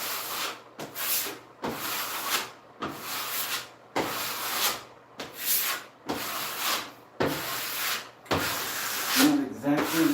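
Trowel dragged with heavy pressure over drywall mud on wall corners, rough scraping strokes repeating in steady bursts about every second, close and fairly loud.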